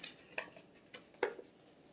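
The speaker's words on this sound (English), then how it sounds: "Let's go ahead and dump out all of our ingredients" Contents of a Green Chef meal kit for roasted sausages and creamy mash tipped out onto a surface, giving a few light clattering knocks and rustles spread over two seconds, fairly faint with no talk.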